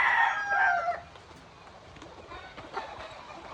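Kanawayon gamefowl roosters, Boston Black crosses kept as fighting birds, crow loudly and close in the first second, then the yard goes quieter with faint distant calls and a low ambient murmur.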